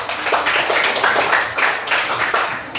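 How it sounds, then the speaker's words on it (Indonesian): A school class claps hands in a loud, rhythmic burst of roughly a dozen rapid claps, close and steady, with no talking over it. "tepuk tangan."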